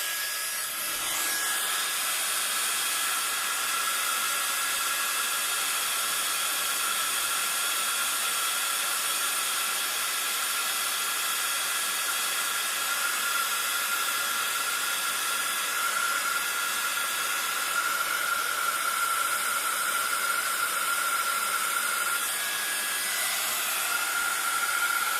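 A heat gun blows a steady, loud, hissing roar of hot air onto a plastic cutout to shrink it for a paper craft box-card, running evenly throughout with no talking.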